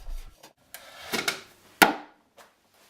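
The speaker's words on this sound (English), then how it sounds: "Simply take a couple of shavings off the sides of the front," Wood being shaved off the sides of a birdhouse front panel with a hand tool, heard as a few short rasping, scraping strokes with a sharper scrape near the end and quiet pauses between them.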